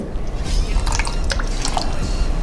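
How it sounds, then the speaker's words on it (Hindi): Water poured onto an empty pen, quick close dripping and splashing with several bright drops over a continuous liquid trickle. "थोड़ा सा पानी डाल रहा हूं।"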